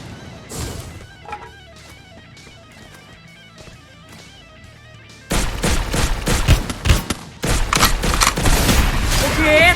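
Loud, rapid shotgun bursts in the video game Free Fire, sharp cracks and booms following quieter game sounds and music, growing dense toward the end.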